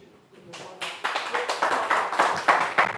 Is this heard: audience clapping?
yes